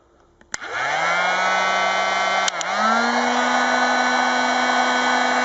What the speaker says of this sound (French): ce qu'il vous faut, un décapeur, et on va chauffer la partie ici pendant quelques